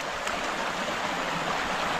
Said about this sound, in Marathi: पाणी बघा पाटाचा कसला स्पीड मध्ये एकदम.